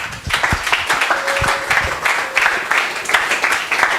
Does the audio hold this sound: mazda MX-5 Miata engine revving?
no